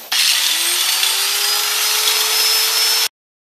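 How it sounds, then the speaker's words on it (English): A power saw blade cuts through a pipe for a homemade brewing sight glass, giving one steady, loud, continuous whine that holds evenly for about three seconds before stopping abruptly. "I did check to see the rotation of my blade, and it is rotating counterclockwise away from me, so it's going to pull the pipe in this way"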